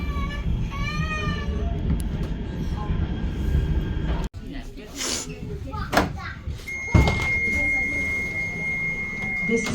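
Rail traffic heard from aboard a Manchester tram service toward Altrincham: a steady rolling rumble and clatter with a sharp door thump partway through, while voices carry on over the noise.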